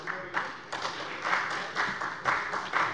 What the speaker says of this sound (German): Das ist ein Beifall wert, das denke ich auch.